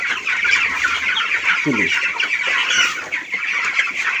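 Chickens on a small poultry farm cluck and chatter continuously at close range, with one brief spoken word partway through.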